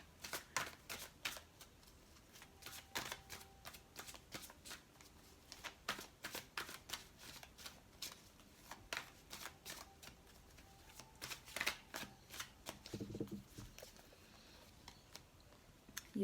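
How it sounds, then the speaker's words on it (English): Angel Tarot cards are shuffled close by in quick, quiet papery riffles and taps that repeat irregularly for several seconds. "We'll pull some cards from the Angel Tarot deck."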